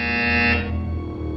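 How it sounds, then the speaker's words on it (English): A harsh, steady electronic buzzer in Portal 2, sounding loud and continuous for about half a second before cutting off into a low humming background. "You will hear a buzzer."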